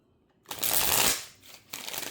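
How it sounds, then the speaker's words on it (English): A deck of playing cards being shuffled close up: a loud riffling burst, a short lull, then a second riffle starting. "I'm going to shuffle it up real good."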